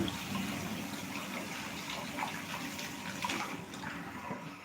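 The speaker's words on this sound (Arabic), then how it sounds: "هذا راني نغسل فيه هذو، شفتي راني نكرط فيهم" Items are washed and scrubbed under running water: a steady splashing gush with small clatters and rubbing noises throughout, fairly close, with no talking.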